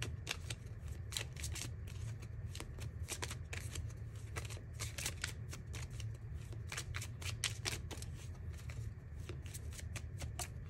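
Playing cards are shuffled repeatedly up close, a rapid riffling flutter in quick bursts with no talking.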